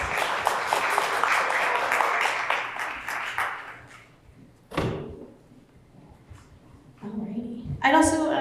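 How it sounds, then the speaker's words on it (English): Applause from a luncheon audience standing for recognition, a dense clapping wash for about four seconds that fades out, followed by a few scattered thumps and a voice speaking near the end. "Round of applause if you would."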